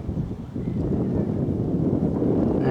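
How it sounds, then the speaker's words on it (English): Wind gusts across a huge open field near Cookham, buffeting the microphone in a steady, fairly loud rushing roar that swells slightly after the first half second, with no voices. "not only is the wind picking up"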